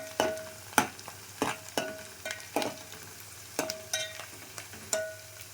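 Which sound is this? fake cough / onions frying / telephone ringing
onions frying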